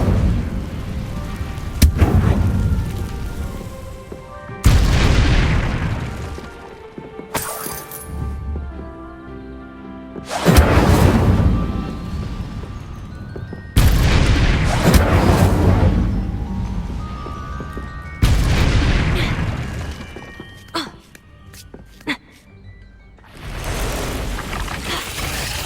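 Repeated Incendio fire-spell blasts in the video game Hogwarts Legacy, loud booming bursts roughly every five seconds, each decaying into a crackling, roaring tail.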